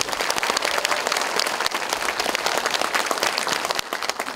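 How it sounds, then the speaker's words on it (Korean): A lecture audience in Gwangju applauds warmly to welcome a senior Democratic Party leader, the dense clapping steady and loud throughout, with a slight dip near the end. "여러분 뜨거운 박수로 맞아주시고"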